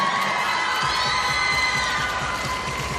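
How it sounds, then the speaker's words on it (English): Arena crowd at a gymnastics qualification cheering and shouting excitedly, a loud, steady roar of many voices with children's high shouts that holds throughout. "The Crowd got very excited."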